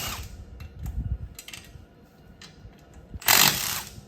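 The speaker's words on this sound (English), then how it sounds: "you're gonna remove the 5 nuts here" Nuts being removed from an RV brake with a 9/16 tool, a series of close mechanical clicks and rattling metallic turns followed by a brief loud whirring burst near the end, with no talking.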